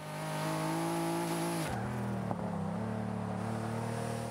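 A Pagani Huayra engine in the Forza 5 racing game roars steadily on a hot lap, with a sharp gear change partway through and a brief tick before the pitch settles lower, loud and alone without talk.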